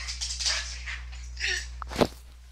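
A dog sound effect in a tabletop-style game session: a few soft whimpering and yipping calls, faint and spaced out, ending in one sharper louder yelp.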